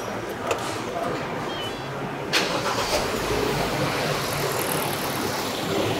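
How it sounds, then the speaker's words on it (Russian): A car engine starts with a brief cranking burst and then settles into a steady idle, close by and continuous, during an automatic transmission oil change done without a machine. "Завожу автомобиль"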